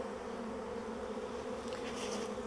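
Honey bees buzz around a Flow Hive in a steady, dense drone that stays even throughout, moderately quiet and close, with no talk.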